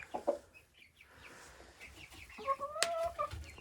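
Hens and a rooster newly arrived from Germany cluck and call nearby, with a few short clucks early on and a louder run of cackling notes near the end, no talking.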